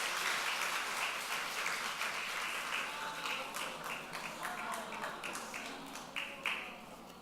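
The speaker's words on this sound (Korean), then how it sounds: "박수." Applause from a classroom or lecture audience after a quiz answer, a dense wash of many hands clapping that stays steady, then thins into scattered claps toward the end.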